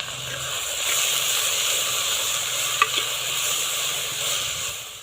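Gongura leaves simmering with salt in a pot of water, a steady close hiss and bubbling with a small clink partway through.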